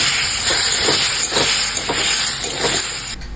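Water poured into a hot pan of frying potato and eggplant with ginger and green chilli paste, giving a steady loud sizzling hiss that holds for about three seconds before cutting off.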